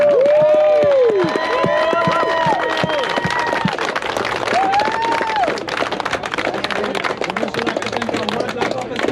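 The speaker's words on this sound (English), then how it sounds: "let's just give everybody a round of applause because everybody did a great job" Audience applause at a fishing tournament weigh-in, a loud, dense, steady round of clapping with some cheering and crowd noise, continuing for the whole stretch while voices and other sounds blend in over it.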